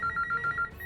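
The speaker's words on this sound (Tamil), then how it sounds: "ஃபோன் ரிங் ஆகுது." A telephone rings indoors with a steady electronic trill in quick repeated bursts, moderately loud and close, with no voices.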